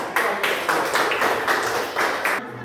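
Children clap their hands in a classroom lesson, giving several short bursts of applause-like clapping in quick repeated groups, fairly close and even in loudness, with no speech over it.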